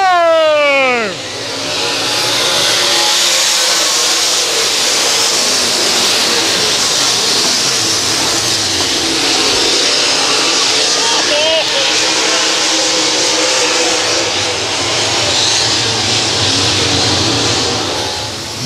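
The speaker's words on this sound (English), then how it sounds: "here they come out of turn" Dirt track race cars come out of turn four at Monett Speedway in a loud, dense roar that fills the air and holds steady. A brief whine sweeps past at the start, and an announcer talks over the noise.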